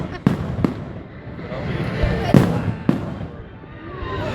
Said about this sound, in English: These are just beautiful fireworks.